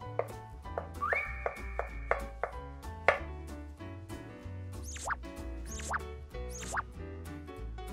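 A knife chops king oyster mushrooms into thin slices on a cutting board, giving a steady run of close, crisp taps at an even rhythm. A bright whistle-like tone sounds at the start, and no one speaks.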